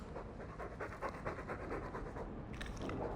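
A dog in the video game Dragon Age 2 pants in steady, rapid breaths, fairly quiet under a low game ambience, with a brief lull near the end before the panting resumes.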